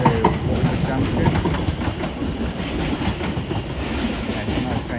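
A Class 710 London Overground electric train moves through London Euston terminus on the West Coast Main Line. It makes a steady, close rumble with rhythmic clickety-clack of the wheels, continuous throughout.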